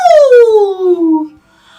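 A person vocally imitates a howling dog, a single long wavering howl that slides downward in pitch, loud and close, ending in a short quiet tail.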